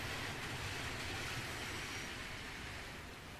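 Train running in the video game Transport Fever, a continuous, even rushing rumble of rolling wagons, fairly faint and unbroken with no voices.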